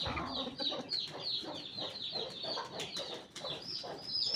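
An Aseel cross rooster of Sindhi and Mewari breeding and his Sindhi hens cluck steadily in a farmyard, a soft, continuous stream of calls at a moderate distance with no talking.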